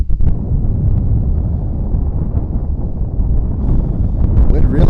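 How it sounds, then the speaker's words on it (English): Strong gusty wind buffets the microphone at a high school baseball game, a loud continuous low rumble with no break, and a voice is faintly mixed into the roar. "wind really picking up, blowing straight into my face"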